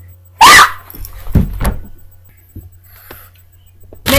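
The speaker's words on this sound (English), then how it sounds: "Bark." A dog gives a few sharp, loud barks close by, one strong bark near the start and another at the end, with quieter thumps and a faint hum between them.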